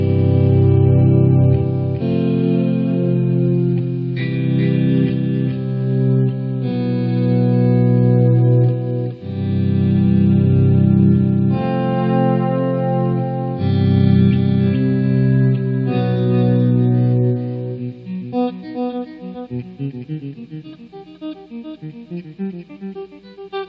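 Electric guitar through a Tech 21 Fly Rig 5 pedal: loud, saturated chords and riffs with heavy distortion and chorus, ending on a quick run of picked notes that ring out with echo, no voices.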